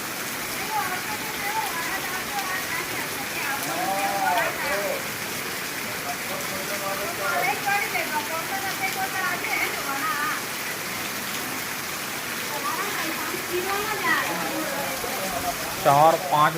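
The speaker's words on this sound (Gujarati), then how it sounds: "અમારા ઘરની આગળથી પાણી જતું છે" Continuous rushing wash of floodwater flowing past a house in heavy rain, a broad steady hiss with rain on surfaces, with voices talking over it and a few louder knocks at the end.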